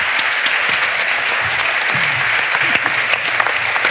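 An audience claps loudly and steadily at an evening event, a dense, continuous wash of applause without pause.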